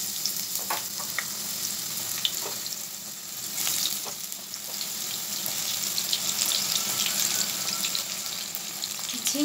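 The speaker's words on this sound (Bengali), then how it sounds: "ফোড়নটা আমাদের ভাজা হয়ে গেছে, এবার এর মধ্যে আমি কেটে রাখা ঝিঙে দিয়ে দিচ্ছি।" Chopped ridge gourd goes into hot oil with fried black cumin tempering, giving a continuous close sizzle with crackles and the scrape of stirring throughout, with no talking.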